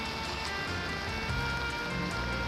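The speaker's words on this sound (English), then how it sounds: "The sound of the rain" Steady rain falls with a dense, even hiss and soft pattering drops throughout, fairly close, with no talking.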